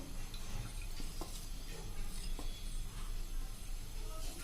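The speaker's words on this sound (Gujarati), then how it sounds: "ગેસ ઓન કરશું અને એમાં આપણે આ જે 1 કપ ઘી લીધું છે એ નાખી દેશું" Ghee goes into a hot pan for kada prasad, making a soft, continuous sizzle and hiss with a few light clinks of a utensil against the pan, heard up close without speech.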